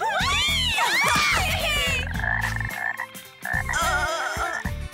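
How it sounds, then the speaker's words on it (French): Frogs croaking loudly at close range, overlapping warbling and rasping calls in quick bursts with short pauses. "Et je vous offre ces grenouilles comme animaux de compagnie."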